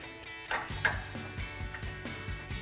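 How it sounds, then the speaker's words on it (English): A socket wrench ratchets as it tightens a nut on the suspension of a Jeep Gladiator JT during a leveling kit install, giving a run of close, quick mechanical clicks in an uneven rhythm. "then we'll grab our 18mm socket and wrench to tighten this down"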